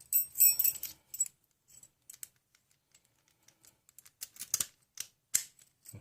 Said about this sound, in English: Give it a shot with the keys.